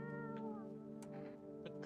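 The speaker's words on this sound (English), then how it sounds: "Cat." A cat meows in several drawn-out, slightly wailing calls, close and clear with no talking over them.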